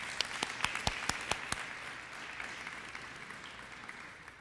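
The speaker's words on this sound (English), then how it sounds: "If we could give them another round of applause." Audience applause for students at a Joliet Township High School ceremony, opening with a few sharp, distinct claps before settling into a steady, even ovation that holds to the end.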